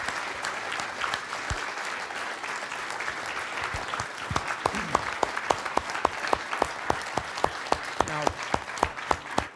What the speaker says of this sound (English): So a round of applause for Mr. Cullen, please.